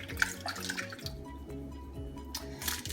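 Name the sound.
water poured into slow cooker pot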